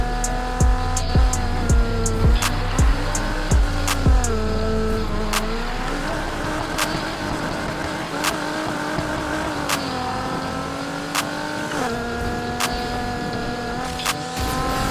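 A Nissan 180SX Sileighty race build in Need for Speed Heat revs hard through gear changes, engine pitch rising and dipping around turns, with sharp blow-off pops and brief tire squeal, loud and continuous.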